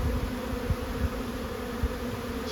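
Honeybees buzzing steadily around a hive box in a fall 4x4 and indoor treatment trial, a close, continuous drone with a few louder bumps and thumps.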